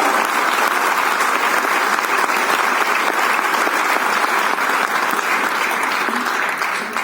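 A large audience applauds steadily at a ministerial stamp-release ceremony for the Paris 2024 Olympics, a dense, loud, continuous wash of clapping that holds evenly for several seconds before easing slightly at the end.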